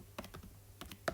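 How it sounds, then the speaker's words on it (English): Keystrokes on a computer keyboard come in two short bursts of several taps each, close and fairly quiet, with a pause between them. "I'm just typing some lyrics from"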